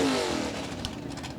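A 1966 Chevy II drag car with a 327 engine and four-speed, revving at a drag strip, a loud rasping engine note that climbs in pitch and holds steady over a short stretch.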